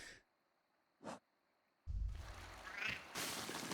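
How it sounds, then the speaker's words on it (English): A small enemy in the video game Silksong gives a short duck-like quack before it attacks, a brief tonal chirp followed by a burst of loud game combat noise. "that little quack, quack before they attack is so cute"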